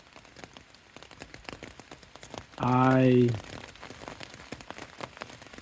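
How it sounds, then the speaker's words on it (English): Rain patters steadily on an Appalachian Trail shelter, a continuous crackle of drops close by, broken by a brief spoken word partway through. "as you can tell, it is certainly raining now"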